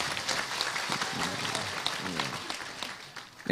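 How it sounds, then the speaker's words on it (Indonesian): An audience at an Islamic religious lecture claps steadily for a few seconds, a moderate, even patter of applause with a speaker's voice faintly mixed in. "tepuk tangan kagem Gusipang niki"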